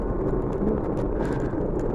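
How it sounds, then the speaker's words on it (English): Rocket stove burning outdoors at -30°F, a steady low roaring rumble of fire with a faint crackle, close and continuous with no talking. "And that's the sound of a rocket stove."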